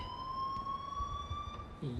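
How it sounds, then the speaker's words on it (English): A school alarm in the Life Is Strange video game rings steadily as a high, continuous electronic tone with harmonics, loud and unbroken throughout. "please turn off that alarm since that's your job"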